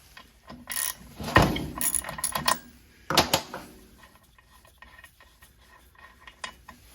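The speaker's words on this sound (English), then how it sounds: "So let me get a socket. We'll check the spark plug." Socket wrench ratcheting while pulling the spark plug from a Husqvarna 455 Rancher chainsaw that runs rough, with bursts of metallic clicking and clattering close by, then quieter handling noises.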